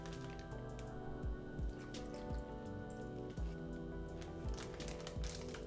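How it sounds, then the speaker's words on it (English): Buttermilk poured into snap lock bags over chicken pieces for frying, soft wet glugs and drips with faint squishing, close and quiet, no talking. "I'm just going to pour a bit of buttermilk in so that they're all nicely covered."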